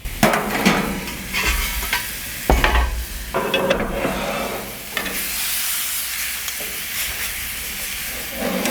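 Flank steak fajitas sizzle and hiss loudly in a hot pizza oven, a steady, close frying roar with sharper crackles and a few clatters as the meat is moved.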